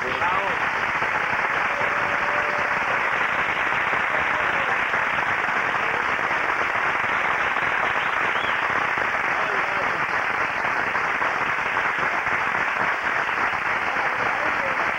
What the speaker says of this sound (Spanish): quiero que todo el mundo aquí te dé un aplauso